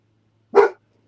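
A single short dog bark, sharp and fairly close, in otherwise near silence.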